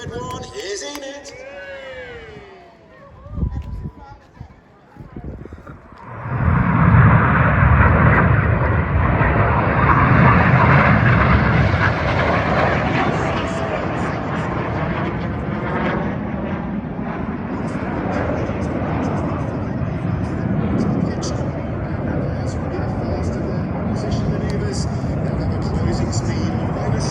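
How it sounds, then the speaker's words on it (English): Red Arrows jets thunder past at low level during a dynamic chimney pass at the Duxford summer airshow, a loud sustained engine roar building after a quieter start and rumbling on with a crowd and commentary faintly beneath. "Descending down to 100 feet and passing 100 feet apart in the dynamic chimney pass."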